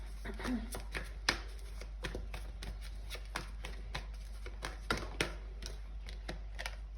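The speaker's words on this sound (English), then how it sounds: "So yeah, I'm just gonna pull more cards and we're gonna see." Tarot cards being shuffled and pulled from a deck at close range, giving a run of sharp, irregular snaps and flicks over a low, steady hum.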